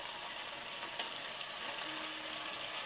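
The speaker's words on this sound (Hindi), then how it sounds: "उन सारी चीज़ों को अच्छे से भूनेंगे" Onions, chillies and ginger garlic paste frying in a pan, a faint, even sizzling hiss throughout with a soft tap near the start, quiet and without talk.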